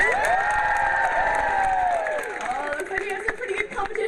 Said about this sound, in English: Let's hear an even bigger practice cheer